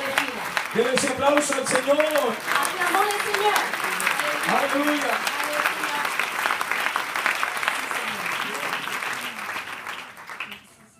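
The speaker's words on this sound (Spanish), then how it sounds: "Dele ese aplauso al Señor" Congregation at an evangelical church service applauds in a steady, dense wash of clapping with a voice calling out over it, tapering off near the end.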